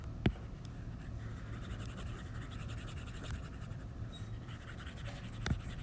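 Board being erased during a chemistry lecture, a quiet continuous rubbing and scratching with a couple of sharp taps, faint against a soft room hum, no talking over it.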